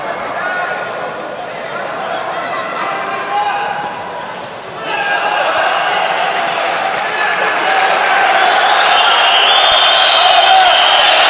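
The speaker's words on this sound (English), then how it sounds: "the crowd are giving him some support" Loud, dense crowd noise at an M-1 Challenge MMA event, swelling from a steady murmur into sustained cheering for a fighter, with commentators talking over it.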